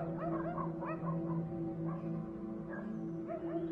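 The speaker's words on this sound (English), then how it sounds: "Meet zoologist Dmitry Shamovich, his dog, and his wolf." A dog and a tame wolf at the Krasny Bor Reserve in northern Belarus make repeated whimpers and soft yips, high whining calls over a steady low background.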